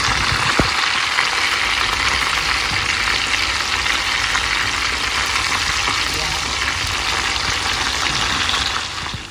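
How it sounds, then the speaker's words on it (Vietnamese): Sun-dried fish fries in a pan with a loud, continuous crackling sizzle that stays steady throughout, close up, with one sharp pop near the start. "Mình đem đi chiên ăn."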